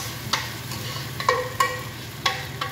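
Two pieces of marinated chicken frying in a pan, a steady low sizzle running throughout with several sharp clinks and scrapes of a utensil stirring against the pan at irregular intervals.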